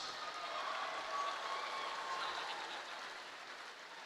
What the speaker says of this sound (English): please give a round of applause to the University of Oklahoma students and faculty of the Commencement Wind Ensemble and Choir